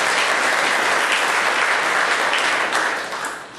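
An audience at a vocal studio recital claps loudly and continuously, a dense wash of applause that fades slightly toward the end.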